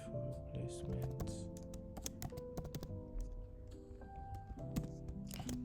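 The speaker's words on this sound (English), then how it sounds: "Let me just type it for replacement." Code is typed on a computer keyboard in bursts of quick, crisp key clicks and thunks, under someone talking at a moderate level.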